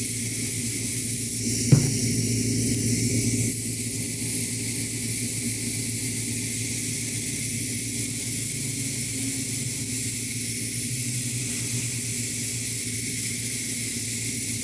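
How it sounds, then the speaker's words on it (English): Airbrush spraying paint onto a scale model, a steady close hiss with compressor hum running continuously throughout, with one small click near the start. "I'm just airbrushing some of this"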